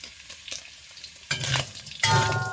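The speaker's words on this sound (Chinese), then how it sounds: "一下少量的油，下入炸好的牛肉，加上配置好的辣椒面" Fried toothpick beef hits a little hot oil in a wok and is stirred with chili powder, giving a steady sizzle that swells loudly twice as the meat is tossed, with scraping strokes throughout.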